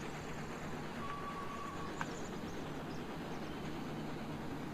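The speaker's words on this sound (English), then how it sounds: "And I hear the train." A train passes in Farming Simulator 19, on the Shamrock Valley map: a steady, moderately loud rumble of rolling rail cars holds through the whole stretch, with a brief whistle-like tone and a sharp click partway along.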